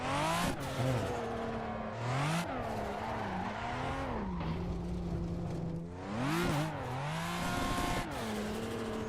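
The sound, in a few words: 2.5 liter five-cylinder car engine revving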